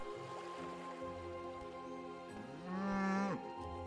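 A cow in the farming video game Kubifaktorium gives one drawn-out, rising moo near the end, over a steady hum of ambient game sound, with no talking.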